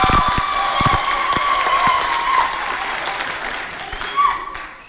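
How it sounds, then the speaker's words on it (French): Loud, dense applause from a crowd at a high school event fills the space continuously, with a few scattered sharper claps and faint voices beneath. "On applaudit fort et pour nous-mêmes."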